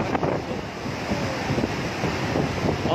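Continuous roaring rush of about 22,000 cusecs of water released from the Hemavati reservoir dam at Gorur, with wind buffeting the microphone, steady and broad, no voices.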